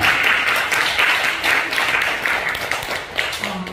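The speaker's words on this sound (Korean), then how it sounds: "박수 한번." A church congregation at a worship testimony meeting breaks into applause, a loud, sustained wash of many hands clapping that carries steadily throughout.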